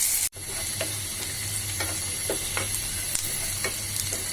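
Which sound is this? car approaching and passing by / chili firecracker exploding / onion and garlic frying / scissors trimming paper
onion and garlic frying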